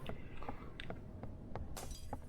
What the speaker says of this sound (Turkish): arkadan cam kırma sesi